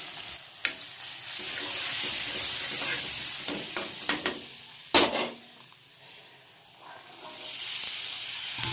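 Tomatoes and green chillies frying in hot oil hiss steadily up close, broken by sharp clinks and scrapes of stirring, with the sizzle easing toward the end before swelling again.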